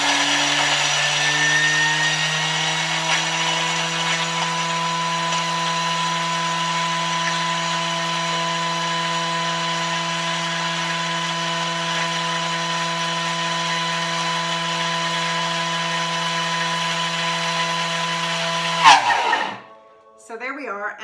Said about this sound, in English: then grind it for 20 seconds at speed 10